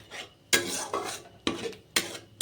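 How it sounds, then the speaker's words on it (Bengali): A cashew and poppy seed paste is fried in oil in a pan. Four sharp, close scraping strokes of a spatula arrive at a steady rhythm over a faint sizzle, and no one speaks. "যতক্ষণ পর্যন্ত না মশলা থেকে তেল বেরিয়ে আসে ততক্ষণ পর্যন্ত আমি পোস্ত আর কাজু বাদামের পেস্টটাকে ভালো করে ভেজে নেব"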